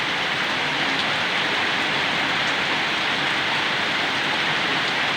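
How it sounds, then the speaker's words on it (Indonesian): Heavy rain during a flooding downpour, a dense, constant loud hiss of water pouring down with no breaks and no voices. "Hujan terus. Hujan terus."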